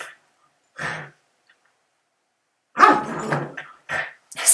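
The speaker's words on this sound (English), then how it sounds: "Sorry for my dog." A dog barks in short bursts nearby while playing with her bed, a few sharp barks and yips separated by quiet gaps.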